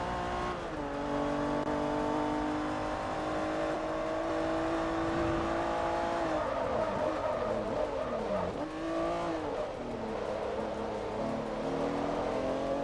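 Race car in Forza Motorsport 3 driving continuously, its engine droning steadily with rising and falling pitch through gear changes and turns, loud and close throughout with no talking.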